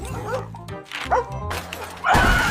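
A dog barks and yips in short, loud bursts close by, with whimpering tones between barks and a person speaking over parts of it.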